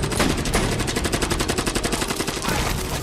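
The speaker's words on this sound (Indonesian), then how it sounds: "Dia melepaskan tembakan dan melenyapkan sisa-sisa pria itu" Rapid automatic gunfire from the movie Salt, a loud, dense burst of shots hammering continuously for about three seconds.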